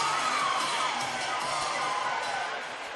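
Crowd at Selland Arena in downtown Fresno cheering after a close 56-55 girls basketball championship win, a loud, sustained wash of voices and shouts filling the arena for the whole stretch and easing slightly at the end.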